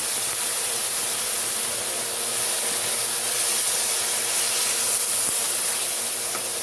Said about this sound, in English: Saute. This is one large chopped onion.